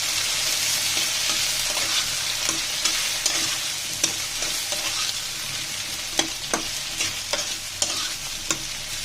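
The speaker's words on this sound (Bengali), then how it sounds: "বন্ধুরা দেখুন আমার বেগুনটা ভাজা হয়ে গেছে" Eggplant pieces fry in a pan for a vegetarian dish, a loud close sizzle with repeated sharp spatula scrapes and taps as the pieces are stirred.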